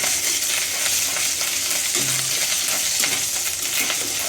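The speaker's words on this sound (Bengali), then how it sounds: "এখানে আমি তেল দিয়েছি, সরিষার তেল, আর তার সাথে দিয়েছি রসুন কুচি ও আদা বাটা।" Chopped garlic and ginger paste sizzle in hot mustard oil in a wok, a steady, close crackle broken by the scrape and light clink of a stirring utensil.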